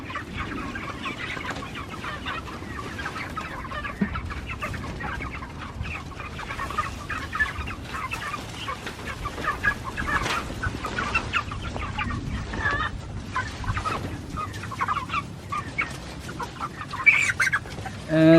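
A flock of chickens clucks and murmurs continuously while eating, with scattered pecking and shuffling sounds close by.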